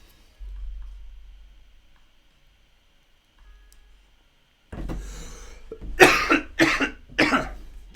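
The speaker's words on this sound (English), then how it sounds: "Again, sorry about the coughing." One person coughs three times in quick, loud, close bursts after several seconds of near-quiet room noise.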